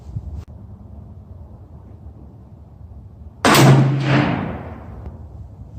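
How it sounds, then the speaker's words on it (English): A single sharp gunshot cracks out loud and close, followed by a decaying outdoor echo, fired from a bench with open sights at 25 yards using a deer-hunting brush-gun caliber; a faint tap precedes it amid light wind noise. "I'm going to just take 2 shots."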